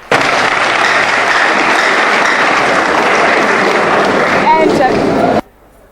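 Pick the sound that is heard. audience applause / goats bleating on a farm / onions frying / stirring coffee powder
audience applause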